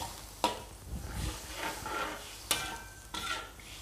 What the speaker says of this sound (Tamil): பாலை ஊற்றிக்கலாம். பால் நல்லா கொதித்து வரட்டும் ஃப்ரெண்ட்ஸ்